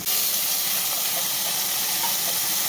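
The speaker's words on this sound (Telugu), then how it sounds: "అందులో ఈ కమలాపండు తొక్క వేయాలి. కొద్దిసేపు వేగించిన తర్వాత మగ్గనిద్దు" Orange peels fry in hot oil in a pan, a steady, loud, close sizzling hiss that continues without a break.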